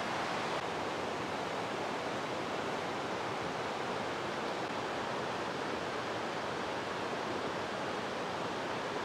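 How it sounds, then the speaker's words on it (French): Steady, dense roar of the waterfall at Doi Inthanon in Thailand, a continuous broadband rush of falling water that holds constant and close for the whole stretch, with no voices. "Voilà, la meilleure des cascades, c'est celle-là"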